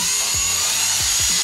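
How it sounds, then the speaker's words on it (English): A wire wheel grinds the rear wheel arch of an EP3 Civic Type R down to bare metal, a loud continuous abrasive whine with a few brief dips in pitch as the tool bites, alone and close. "now I'm going to wire wheel on both sides back to bare metal"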